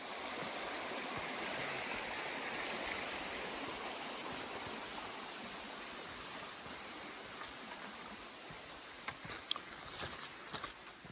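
Steady broadband hiss of rain falling on dense forest canopy along a collapsed woodland trail in Porcupine Mountains State Park, even and continuous throughout, with a few sharper patters and drips toward the end.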